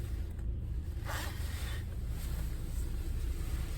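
A car engine with an idle fault idles quietly, as if about to stall, with a steady low rumble, faint and even throughout, with a little wind noise over it.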